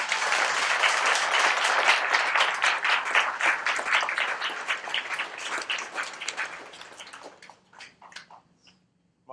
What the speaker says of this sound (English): give my father a round of applause.